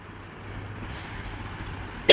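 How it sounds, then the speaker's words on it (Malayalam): A single short, sharp cough bursts out right at the end, loud and close after a near-silent stretch of faint room noise. "നല്ല ചുമയുണ്ട്."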